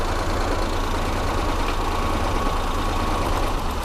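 Suzuki Mehran 800cc petrol engine running rough with one spark plug wire pulled, giving a steady near idle with an uneven, thumping misfire throughout, no talk.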